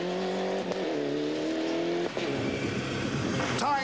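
Mitsubishi Evo 9 rally car on a forest stage at Moonraker Forestry 2012, engine revving loud and near with rising and falling pitch through gear changes, ending in a sharp burst of acceleration.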